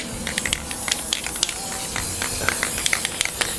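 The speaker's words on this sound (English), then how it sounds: "It's spraying all over the place." An old aerosol can sprays clear coat onto metal arcade cabinet parts, a steady close hiss with sputtering crackles throughout.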